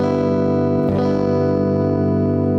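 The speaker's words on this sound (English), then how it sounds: "old Dan Electro distortion pedal after that" A guitar chord rings through an old Danelectro distortion pedal, a thick, sustained, gritty tone with a brief scrape of strings near the start.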